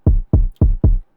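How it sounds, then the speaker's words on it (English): Four unprocessed kick drum hits from the FL Studio sampler, dry and soft-edged with a low thump, played alone at an even pace. "It sounds like this without any messing around in the sampler."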